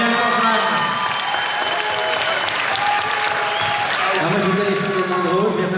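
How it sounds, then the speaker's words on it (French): A cinema audience at Le Grand Rex applauds producer Daniel Dangeman at the Alad'2 premiere, with loud, continuous clapping and some cheering while a voice speaks over it. "On peut applaudir le producteur Daniel Dangeman."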